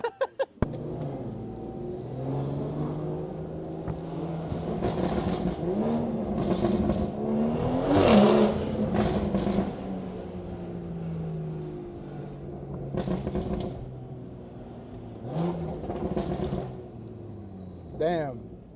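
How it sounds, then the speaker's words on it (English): A BMW 340 with a loud aftermarket exhaust rumbles and revs outdoors, its engine note rising and falling through several throttle blips with a strong surge midway, while someone talks over the idle. "Damn, my car sounds so good out here"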